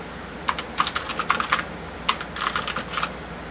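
Someone types on the keyboard of a Processor Technology SOL-20 8080 computer, two bursts of crisp, clicky keystrokes with irregular rhythm, close and clear over a quiet hum.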